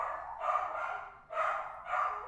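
Dogs bark indoors in a room, three or four short muffled woofs spaced about a second apart at moderate distance, with no speech over them.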